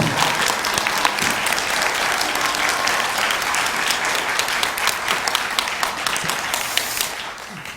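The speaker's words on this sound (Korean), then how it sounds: "박수 한번 올려드리겠습니다." A church congregation applauds a guest pastor, a seminary professor, with steady, dense clapping from many hands that fills the room at full strength for several seconds without a break.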